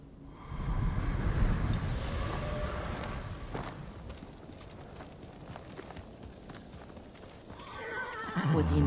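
A horse in the Ghost of Tsushima video game whinnies loudly near the start, followed by hoof clip-clop and a wash of wind and surf that fades before another rush of sound at the end.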